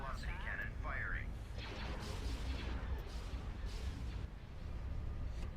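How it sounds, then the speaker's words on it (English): Hypervelocity cannon firing in a Star Wars Empire at War space battle mod, a sustained rumbling barrage of low booms with brief warbling electronic tones at the start, fairly faint under game ambience. "Hypervelocity cannon firing."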